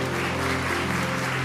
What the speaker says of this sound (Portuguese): A igreja pode adorar a Deus com a linda salva de palmas.